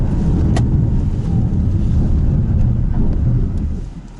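A 2020 Volkswagen Tiguan Allspace R-Line 2.0 TSI engine roars hard under full throttle off the line, a loud, steady rumble mixed with wind buffeting that fades slightly at the end.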